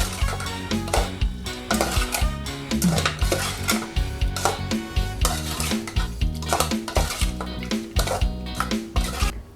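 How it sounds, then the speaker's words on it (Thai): A spoon scrapes and clinks against a bowl while beef laab is stirred. The clatter is rhythmic and close, with busy taps and knocks throughout and no talk. "จากนั้นก็คนให้เข้ากันนะคะ"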